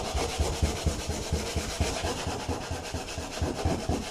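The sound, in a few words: sanding filler with 80 grit sandpaper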